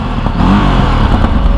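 Engine of a 2023 Ducati Desert X on its stock exhaust, revved loud and close, the pitch rising and falling with a rough, clattering burble and a sharp pop.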